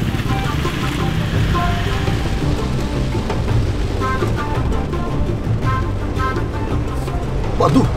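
Steady rain patters heavily on a surface, a dense continuous hiss with faint rumbling underneath.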